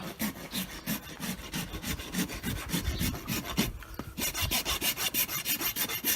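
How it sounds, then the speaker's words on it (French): Steel rasp filing a barefoot horse's hoof, unshod for about a week and a half: close, rhythmic rough scraping strokes repeating steadily, with a short pause midway before the strokes resume. "sachant que Quasimodo n'avait pas été touché à la lime râpée depuis quelques jours, il me semble, près d'une semaine et demie."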